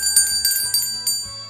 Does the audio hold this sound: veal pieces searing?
no